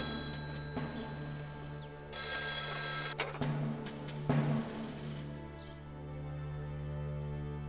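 An old-style telephone bell rings indoors in a short burst that starts and stops, followed by a second brief ring amid quiet room tone, with no talking over it.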